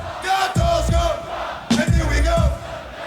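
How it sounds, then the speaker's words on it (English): Concert crowd cheering at a hip-hop show, loud roaring shouts that swell in two big surges over a dense murmur of many voices. "Listen to the crowd."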